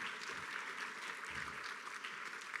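Audience at a community event applauding in steady, dense clapping that carries evenly throughout without breaks.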